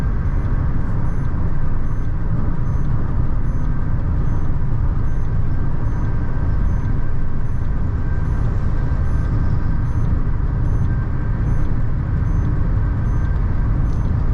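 A Maruti Suzuki XL6 automatic cruises on a highway at about 120 km/h, filling the cabin with a steady, loud, broadband road and wind rumble with no talk and no change in level.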